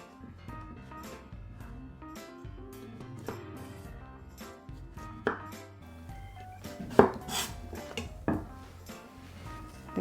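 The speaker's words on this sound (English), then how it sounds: "So now I'm going to cut the onion." A knife chopping red onion on a cutting board, a steady run of quick, close taps with a few louder knocks near the end, heard alone without talk.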